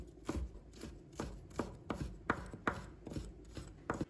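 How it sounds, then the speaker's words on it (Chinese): A kitchen knife chops chili pepper strips into small pieces on a cutting board, a steady series of sharp, close knocks at an even, brisk pace, with no voices. "然后切成条。 再切成小粒。"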